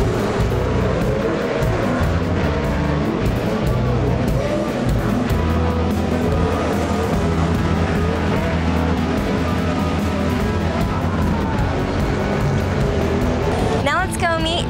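Midget race cars roar around Ventura Racetrack, a loud, sustained engine drone with shifting pitch as cars pass, heavy and continuous across the whole stretch, with a brief higher whine near the end.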